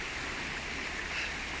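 Steady broadband rush of a small mountain stream flowing, constant and fairly close, with no voices over it.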